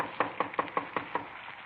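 Six quick, even knocks on a wooden door, close and fairly loud, in a steady rhythm.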